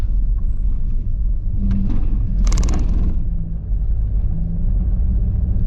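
A car rolls over a cattle grid on a rural road: a steady loud engine and tyre rumble with a brief rattling clatter in the middle as the wheels cross the bars.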